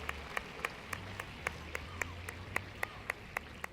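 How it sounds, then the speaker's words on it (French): Sparse, evenly spaced claps ring out at a finals archery event, honouring the top four archers; only a few hands clap in a slow, steady rhythm at moderate distance, over a low background hum. "Nous pouvons applaudir nos 4 premiers archers."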